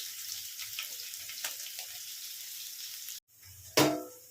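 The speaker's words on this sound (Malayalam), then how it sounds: "കടുകെല്ലാം പൊട്ടി ഇതിലേക്ക് ചെറിയുള്ളി അരിഞ്ഞത് ഇട്ട് കൊടുക്കുകയാണ്" Chopped shallots hit hot oil where mustard seeds have already popped, for a Kerala kovakka pachadi; a steady close sizzle runs throughout, broken by a brief pause and then a sharp louder burst of frying.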